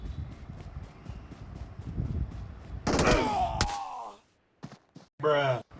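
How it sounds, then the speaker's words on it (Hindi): Gunfire in the battle-royale game BGMI: a loud burst of shots rings out mid-clip over game ambience, followed by a few sharper isolated reports near the end. "यहाँ से जब मुझे फायर की आवाज़ आती है"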